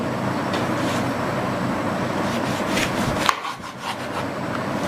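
A knife saws through a giant bitter lemon, making a steady close rasping cut for about three seconds that ends in a sharp click as the blade breaks through, followed by softer rubbing.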